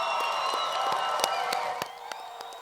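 Audience at a 2016 nursing pinning ceremony applauding and cheering its graduates, a steady wash of clapping and crowd noise with a few sharper claps standing out, fading slightly toward the end.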